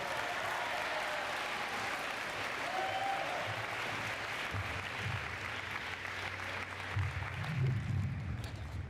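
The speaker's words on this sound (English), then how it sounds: "So let's give him a round of applause." Sustained applause from an audience at a spring sports awards ceremony greets the incoming MC, a fairly soft, even wash of many hands clapping over a low room hum, continuing throughout.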